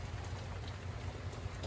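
Steady rain pours down during a coastal storm, a dense, even hiss with a low rumble beneath it, constant and fairly close throughout with no voices.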